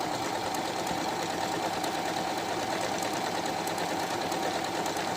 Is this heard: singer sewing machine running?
yes